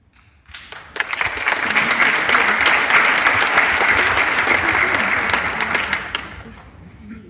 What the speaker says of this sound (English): One more warm applause for him, please.